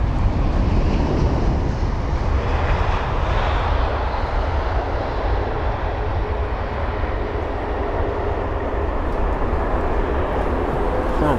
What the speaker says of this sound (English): And the 787 with a really good landing.